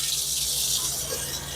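Water runs from a tap into a sink fed by an off-grid barrel system, a steady close hiss and gush that holds throughout the short stretch with no talking over it.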